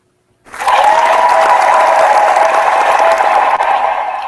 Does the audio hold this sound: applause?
yes